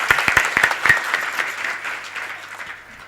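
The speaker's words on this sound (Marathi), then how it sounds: "मला वाटतं एकदा टाळ्या वाजवल्या तर फार बरं होईल" An audience at a Marathi kirtan performance breaks into loud, close applause that starts with sharp individual claps and thins gradually over about three seconds.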